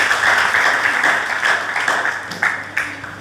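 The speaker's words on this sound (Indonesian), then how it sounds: "Tepuk tangan buat Tuhan." A church congregation clapping together during a sermon, a dense sustained wash of applause from many hands filling the room, fairly loud and continuous with slight swells, and no talking over it.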